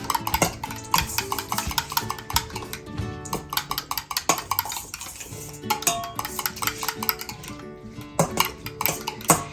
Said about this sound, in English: And this is the vanilla. I'm just going to mix this.